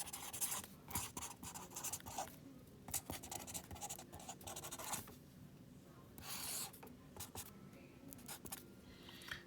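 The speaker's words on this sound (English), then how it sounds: "Guess we'll sign it right across here." A pen signs a card with coins taped onto it, giving close, scratchy strokes in irregular bursts, with small bumps and clicks where the tip passes over the coins.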